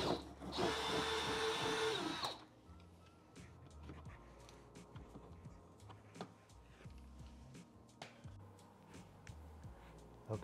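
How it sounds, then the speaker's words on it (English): A power drill with a 5/16 bit drills a hole in a 2022 Toyota GR86 for splash guards, whining loudly for about two seconds, then cuts off, leaving quiet background clatter and faint ticking. "there is where we are going to drill with our 5/16 bit"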